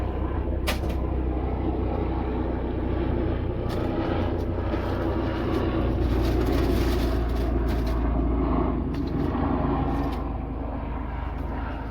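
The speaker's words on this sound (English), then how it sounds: "There's a helicopter coming over the house." A helicopter passing over a house makes a continuous, loud, broadband engine rumble and roar that holds steady for about twelve seconds with no talking.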